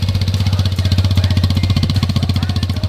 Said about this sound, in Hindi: तो सबसे पहले हम सुनेंगे अपाचे RTR 162 भी का एग्जॉस्ट नोट।